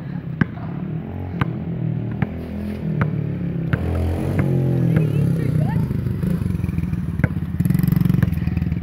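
A dirt bike engine runs steadily at close range with a low rumbling drone, under rattling clatter and sharp clicks, while people talk over it.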